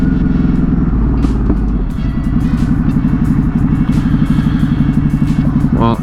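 Ducati Hypermotard 950 RVE motorcycle engine running loud and steady up close, a continuous throbbing rumble with rhythmic pulsing and a rev near the end, slight clatter over it.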